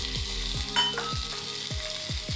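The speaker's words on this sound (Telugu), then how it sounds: "ఇది మంచిగా ఫ్రై అవ్వనిద్దాం." Ginger garlic paste and turmeric frying for paneer biryani, a loud close sizzle with a series of rhythmic spatula scrapes and taps against the pan, no voices.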